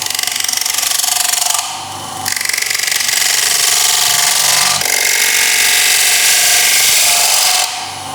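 A gouge takes a gentle finishing cut on the outside edge of a wooden bowl spinning on a lathe held in a vacuum chuck, giving a loud, steady hissing whir with two brief dips in intensity.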